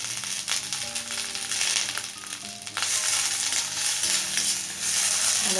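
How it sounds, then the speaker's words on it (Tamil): Three dried red chillies and curry leaves sautéing in a little oil for peanut-stuffed capsicum, giving a steady crackling sizzle with occasional sharper pops, close and fairly loud, with no talking. "இப்போ இதில் ஒரு ட்ராப் கொஞ்சம் எண்ணெய் விட்டு இந்த 3 காஞ்ச மிளகாவே நல்லா வதக்கிக்கலாம்."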